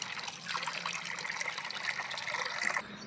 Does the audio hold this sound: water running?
yes